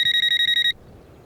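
A telephone rings in a burst of rapid, evenly pulsed electronic trills that stop abruptly partway through, leaving faint room noise.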